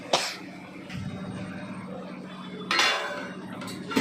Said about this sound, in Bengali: ঢাকা দেবো, এর মধ্যে বড় ঢাকাটা নিয়ে আসি